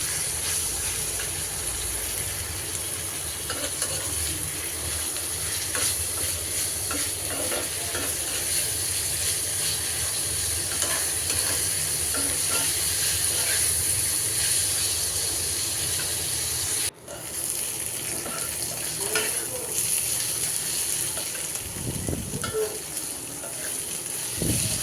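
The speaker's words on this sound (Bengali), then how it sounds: "পেঁয়াজটা ভেজে নিলাম" Sliced onions frying in hot oil until reddish before cooking magur catfish, a continuous dense sizzling hiss with occasional utensil scrapes and one brief dip in the noise, no voices.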